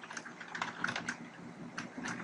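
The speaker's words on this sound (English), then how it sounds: "let's go ahead and call that by typing in this string of text" Rapid, close clicking keystrokes on a computer keyboard as code is typed in, an irregular patter of taps with no talking.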